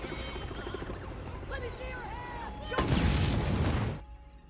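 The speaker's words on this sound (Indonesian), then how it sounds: "pria itu pun memutuskan untuk meledakkan dirinya" A man blowing himself up in a film scene: a loud, dense blast roars in after a stretch of background score and speech, holding for about a second before cutting off.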